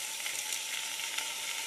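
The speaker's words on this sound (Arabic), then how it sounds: "نحط البصل، نقلب البصل مع بعض." Onion frying in a single spoonful of oil in a pan, a steady, dense hiss of sizzling heard close up, with no voices.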